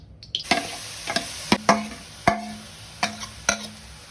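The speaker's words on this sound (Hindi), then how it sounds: "कढ़ाई के अंदर आपको 200 ग्राम घी डालना है। ऐड करना है लौकी।" Bottle gourd being stirred and fried in ghee in a wok gives a soft background sizzle broken by about seven sharp scraping clacks of a spatula against the pan, spaced irregularly and close.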